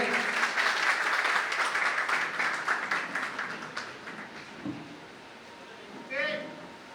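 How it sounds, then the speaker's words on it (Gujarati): An audience at an education motivational seminar bursts into strong, close applause that gradually thins out over several seconds, and a voice speaks briefly near the end. "ભરતભાઈ વાઘેલા જોરદાર તાળીઓ"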